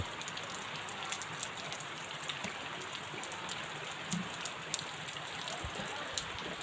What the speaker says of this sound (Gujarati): તો વરસાદ કેવો પડે છે, ધોધમાર બહુ વરસાદ પડે છે